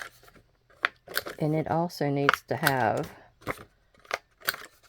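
Scissors cutting paper to round the corners of a Stamperia forest lapbook, brief crisp snips close to the mic, spaced between and under someone talking.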